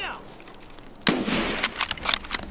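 Suppressed gunfire from a PMC in Escape from Tarkov, a sharp crack about a second in followed by several irregular muffled shots, moderately close.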